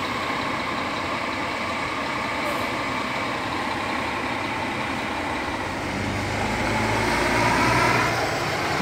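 A Real Expresso interstate bus on the Brasília highway rumbles steadily with its diesel engine, the noise swelling slightly toward the end as it draws nearer and passes, with no talking.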